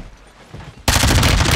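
Heavy gunfire from a big gun in a multiplayer shooter bursts in loud and sustained after a short quieter stretch, a dense continuous volley.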